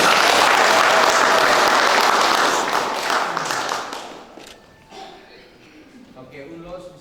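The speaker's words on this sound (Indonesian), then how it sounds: "Menjadi suami istri, kita berikan tepuk tangan." Wedding guests applaud a newly married couple with a dense burst of clapping that thins out after a few seconds, leaving scattered claps and voices in the room.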